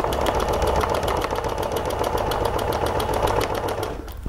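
A Janome MC 11000 sewing machine stitches fast and steadily during ruler work, with a dense, even mechanical rattle that continues unbroken and then winds down as it stops.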